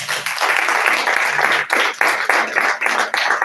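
A church congregation applauds for the Lord, loud and close, sustained group clapping that swells and dips in waves across the whole stretch.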